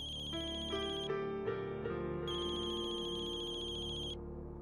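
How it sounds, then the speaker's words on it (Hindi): A mobile phone ringtone plays as a loud, sustained electronic melody of bright tones in repeating phrases, ringing on steadily for several seconds with no one talking over it. "अरे अर्जुन का ही फोन है।"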